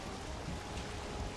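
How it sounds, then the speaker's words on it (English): Rain falling in the Valheim video game while sailing at sea, a steady dense patter of raindrops on surfaces, soft and continuous with no voices. "Alright, it's raining now."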